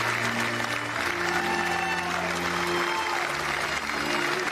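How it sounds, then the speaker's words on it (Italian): Steady applause from a crowd filling a town square as a football coach's coffin is carried onto the church forecourt at his funeral, continuous and fairly close, with faint sustained tones running beneath it. "accompagnano sul sagrato il feretro tra gli applausi della piazza"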